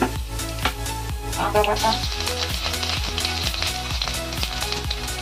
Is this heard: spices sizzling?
yes